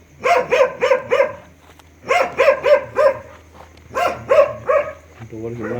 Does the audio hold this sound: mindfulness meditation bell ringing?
no